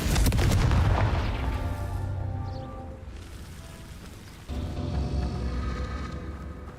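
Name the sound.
Confringo blasting spell exploding rocks in video game Hogwarts Legacy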